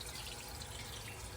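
A steady stream of water leaks from a body seam into the trunk drainage cavity of a Plymouth Gran Fury, a soft continuous trickling and splashing close by with no talk.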